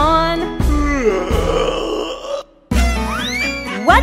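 A long, drawn-out yawn sung in a children's action song, a voice imitating a yawn with sliding groaning tones over musical backing, broken by a brief pause before another rising, sighing yawn.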